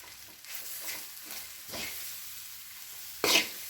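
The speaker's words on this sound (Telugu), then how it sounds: "ఇదంతా కూడా ముక్కలకై పట్టేటట్టుగా కలపండి అల్లం వెల్లుల్లి" Meal maker fry with ginger garlic paste is stirred in a pan, a quiet close sizzle with a few soft spoon scrapes and a louder clatter near the end.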